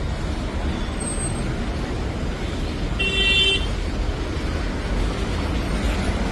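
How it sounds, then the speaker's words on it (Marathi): Traffic on Mumbai's Eastern Express Highway, a constant broad roar of engines and road noise with a short car horn toot near the middle and faint horn beeps elsewhere. "ईस्टर्न एक्सप्रेस हायवेला ट्रॅफिक आहे."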